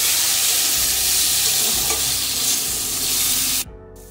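Potatoes sizzle in hot oil with a pinch of salt and turmeric powder, a loud, steady crackling fry close by that cuts out abruptly near the end, leaving a faint hum.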